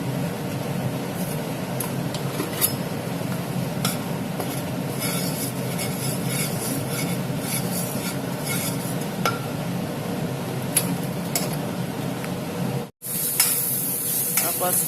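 Turmeric being stirred into a wood apple pachadi, a steady scraping and stirring with soft sizzle-like texture running continuously, broken by a brief drop near the end.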